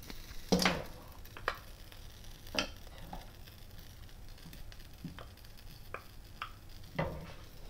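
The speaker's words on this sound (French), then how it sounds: "je mélange" A spoon scrapes and clinks around a saucepan of butter and water in a few scattered strokes, with a faint sizzle from the pan in the background and no talking.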